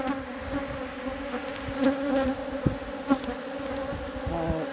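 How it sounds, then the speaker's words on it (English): A dense, steady drone of a swarm of bad-tempered bees buzzing close by in an empty brood box, with a few sharper thumps and knocks breaking through the constant hum. "Bad tempered bees."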